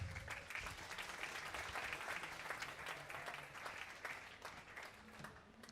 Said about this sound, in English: so give a round of applause, guys